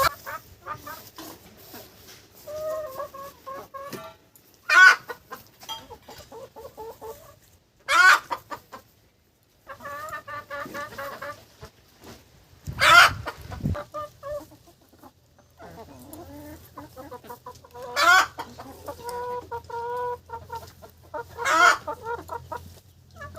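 Desi domestic chickens cluck and murmur nearby in a steady, uneven chatter, broken every few seconds by sharp, loud squawks and a brief flurry.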